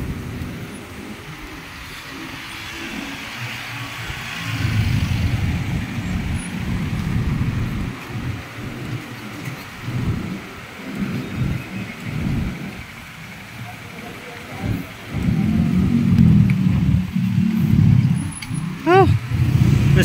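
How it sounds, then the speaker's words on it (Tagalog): Steady rain falls outdoors as people hurry home on foot, a continuous broadband wash that grows heavier toward the end, with voices talking over it throughout. "mababasa pa ang ulan."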